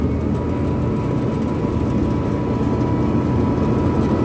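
Engine of a 2007 Kenworth W900 mixer truck held at raised throttle, a loud, dense, continuous low rumble and roar with no pauses, close to the source.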